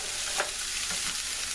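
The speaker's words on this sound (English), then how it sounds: "these onions are getting nice and caramelized and golden" Onions caramelizing in butter in a pan for a vegetarian pot pie give a steady, close sizzle with a few soft stirring scrapes.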